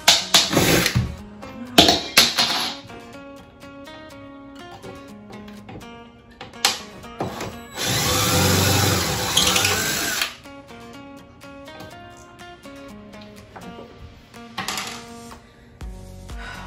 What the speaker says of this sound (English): I've got my impact drill right here,